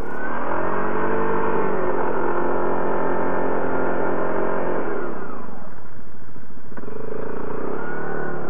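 A Commander ATV fitted with WS4 tracks, stuck in four-wheel drive, holds a loud, close engine drone that drops away, then picks up again and rises, with no talk.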